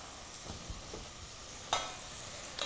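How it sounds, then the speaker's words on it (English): Shrimp sambal with petai stink beans sautéing in a hot pan, heard as a soft steady sizzle with a few faint stirring scrapes and one brighter clatter near the end, with no voices. "turn the heat up just a little bit and just kind of start sauteing everything together"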